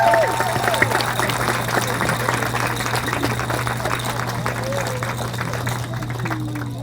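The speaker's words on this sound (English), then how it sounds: "Let's give another huge round of applause to Glenn." Relay for Life audience applauding a speaker, a broad steady clapping crowd with some voices mixed in and a low hum underneath, gradually easing off toward the end.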